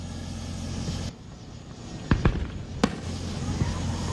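Fireworks at a Fourth of July show in Starkville: a few distant booms and sharp cracks over a steady outdoor rumble, with brief quieter stretches between bursts.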